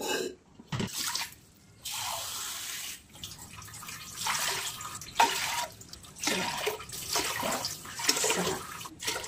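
Water poured into lentils for cooking, seven glassfuls for puran poli dal, splashing and running in several bursts with short pauses between pours, close and fairly loud.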